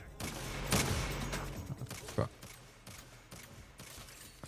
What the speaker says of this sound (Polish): Ostatnim strzałem go trafiłem.